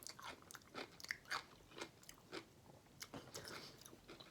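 Soft, close crunching bites and chewing of a Mt. Olive kosher dill pickle repeat in an uneven rhythm, faint and intimate with no talking.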